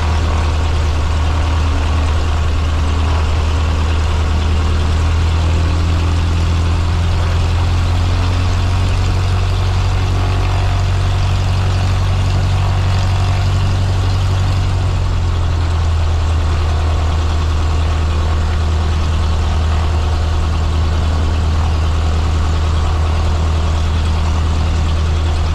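Light aircraft engine idling at about 1000 RPM before taxi, a steady loud low drone with a slight pitch shift midway, close and continuous, with no talk.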